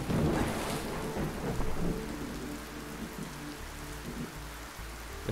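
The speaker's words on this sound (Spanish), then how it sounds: "Es que hay una ventisca aquí." A blizzard storm in the video game Rogue Heroes: Ruins of Tasos, a dense, continuous rushing wash of noise with low rumbling swells, loudest at the start and steady throughout, with no talk.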